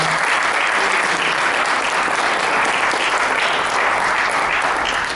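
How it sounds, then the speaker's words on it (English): A talk-and-demonstration audience breaks into loud, dense, continuous clapping that holds steady throughout, with no voices standing out. "Give her a round of applause"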